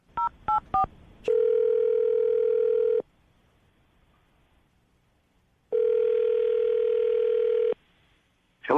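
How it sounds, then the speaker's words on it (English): A telephone dials a number with three quick tones, then a steady dial-style tone sounds loudly for a couple of seconds, stops, and returns after a pause, with no talking. "I'm going to dial the phone number right now, see if we can get him on the phone"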